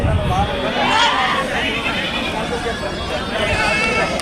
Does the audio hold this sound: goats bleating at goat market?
yes